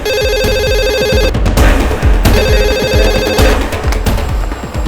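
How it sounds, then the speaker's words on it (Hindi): A telephone bell rings loudly and repeatedly in steady bursts, with no one picking up and a busy, clattering background underneath. "रिंग जा रही पर उठा नहीं रहे।"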